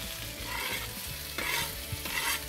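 Ginger, garlic, chili and coriander stalks stir-fried in a pan with mealworms for an insect stir-fry, sizzling steadily with repeated scraping stirs of the utensil, close and fairly quiet, no voices.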